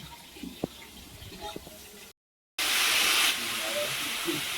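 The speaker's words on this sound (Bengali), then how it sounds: "বেগুনগুলোকে প্রথম ভেজে নেওয়া হচ্ছে" Eggplant frying in oil for a puja cooking ritual, a hissing sizzle that is quieter at first with a few clicks, then breaks off briefly and returns as a loud, close, steady hiss.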